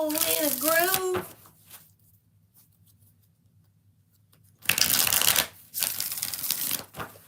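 Tarot cards being shuffled, two bursts of quick riffling close to the microphone after someone speaks briefly, separated by a quiet pause.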